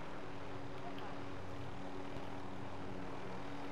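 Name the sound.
helicopter in Call of Duty Modern Warfare video game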